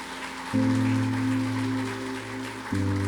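A church congregation applauds in a dense, steady patter of clapping while sustained keyboard chords ring underneath, shifting pitch once and swelling again near the end.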